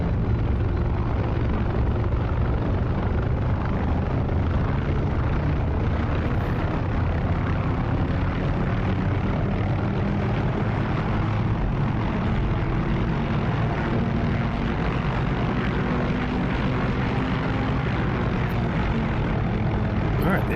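In the DCS flight simulator, a propeller aircraft engine is slowly throttled up, giving a loud, continuous roar and drone that holds steady for the whole stretch without pauses.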